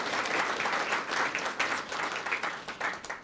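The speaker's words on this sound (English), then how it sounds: "Give them a round of applause." Audience applause for breakfast sponsors at a school Student of the Month ceremony, a steady, fairly loud wash of many hands clapping that lasts throughout and swells and dips slightly, with no talking over it.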